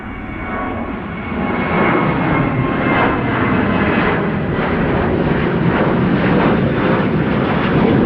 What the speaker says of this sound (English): Here's KLM flight 1505 to Madrid.